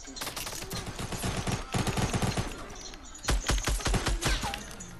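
Bursts of video game gunfire, fairly loud and close, coming in clustered volleys with short gaps and a heavier salvo near the end.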